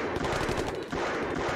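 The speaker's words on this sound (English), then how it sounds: "gunfire could be heard rattling off amidst their yells" Thompson submachine gun firing in a mafia-themed video game, a dense continuous rattle of rapid shots filling the whole moment, loud and close with no pauses and no talk.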